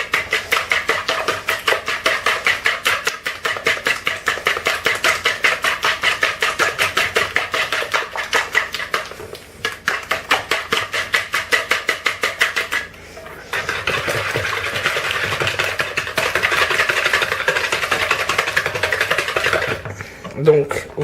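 Whole eggs and sugar being mixed for an apple cake batter, a steady rapid scraping and clinking of utensil against bowl continuing for long stretches with brief pauses, close and loud.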